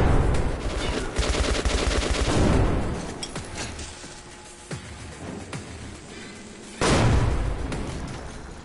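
Grenade blasts and bursts of gunfire in Metro Last Light Redux, rapid rattling shots at the start followed by scattered single reports and a second heavy burst near the end, loud and close.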